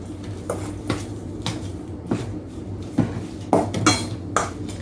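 Garlic chili oil noodles with sesame oil are tossed in a bowl with a utensil, giving a series of close clinks and scrapes against the dish at an uneven rhythm.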